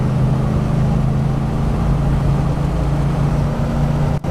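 Ford Bronco engine floored at full throttle while climbing: a steady, loud low-pitched engine drone holding constant for a few seconds, close to the microphone.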